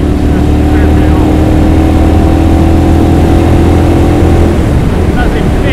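A Ducati Monster 796 ridden at speed around 4,000 RPM, a loud steady engine drone with constant heavy wind rush over the microphone, and someone talking over it.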